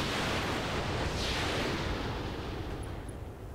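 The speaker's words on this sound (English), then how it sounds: "We're gonna fire the LRMs." Long-range missiles fire in the RogueTech mech game, a dense roaring, rumbling blast of noise that holds loud and steady throughout, then eases slightly near the end.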